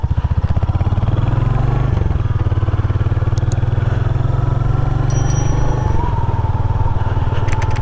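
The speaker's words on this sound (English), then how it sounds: "the very leisurely tick over of the idle. It's so low, it's just crazy." A 2023 Royal Enfield Hunter 350 motorcycle idles with a very low, slow, steady thumping tick-over that stays loud and close, with a few light clicks on top.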